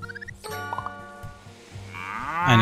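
A cow in the video game Farm Land gives a short, clear moo with no talking over it. Other farm game sounds are around it and a rising chime comes at the end.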